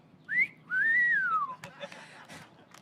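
A live whistled solo of the march Colonel Bogey at a summer concert: two clear rising and falling whistled notes, the second long and sustained, close and prominent, followed by faint room noise.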